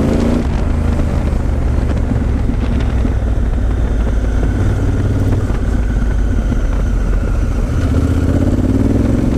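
A Honda Africa Twin adventure motorcycle ridden offroad on bush tracks, its engine roaring loud and continuous close to the microphone, with wind rush and rough terrain rattle throughout and no voices.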